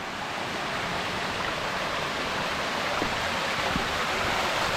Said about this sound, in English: This would have been the waterfall that we saw from up top.